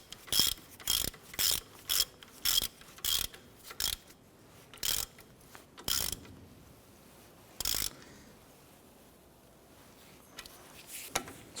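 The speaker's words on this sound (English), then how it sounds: "Then we can go ahead and snug our bolt down, and then we'll go ahead and torque that into place." A ratchet tightens a bolt on a 1993-1997 Ford Ranger front lower ball joint, with a run of short, evenly spaced clicking bursts close up, slowing to a few separate strokes before quiet.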